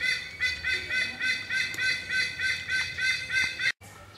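A rhythmic series of loud, raspy bird calls repeats about a dozen times in steady pulses before cutting off abruptly near the end.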